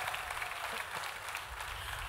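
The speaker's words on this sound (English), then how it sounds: "Give a big round of applause for yourself." Audience at a food and drink masterclass applauding, a dense steady wash of clapping from many hands that fills the whole moment, close and fairly loud.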